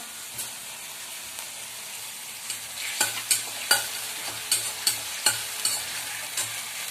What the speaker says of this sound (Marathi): ते छान फ्राय करून घ्यायचं आपल्याला